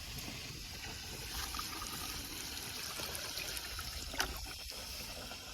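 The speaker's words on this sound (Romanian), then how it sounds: "Luăm aici furtunul frumos, îl aruncăm aici și mergem să dăm drumul la apă." Water from a garden hose trickles and splashes steadily into a backyard pond, a continuous soft rushing stream heard up close with no talking.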